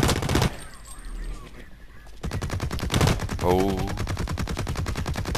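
Rapid SMG gunfire from the shooter game Blacklight Retribution, loud bursts of dense repeated shots filling most of the clip after a short quiet stretch, with a man's brief exclamation over them.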